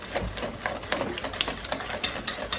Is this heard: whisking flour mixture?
yes